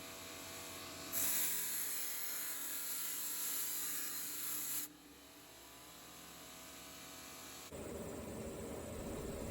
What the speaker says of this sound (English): Using the Sandblaster with the twin compressors is working really well for me.